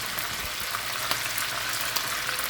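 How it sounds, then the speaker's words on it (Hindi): Garlic and ginger frying in a pan for a dhaba-style chicken karahi, a steady close sizzle with light crackling pops and no talk. "आधा टेबलस्पून अदरक हम इसमें डाल देंगे और इसको हम फ्राई करेंगे"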